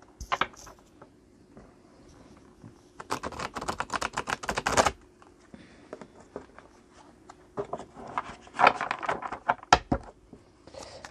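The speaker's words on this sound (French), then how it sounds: "je range un peu le jeu parce que je vais me servir du même tarot" Tarot cards are shuffled and tapped together as the deck is gathered and squared, giving bursts of dense papery riffling and clicking separated by short quiet pauses.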